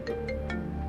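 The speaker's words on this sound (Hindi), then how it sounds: "जीनिया की कॉल आ रही है" A phone ringtone sounds for an incoming call, short repeated tonal bursts over a steady electronic backing, close and clear.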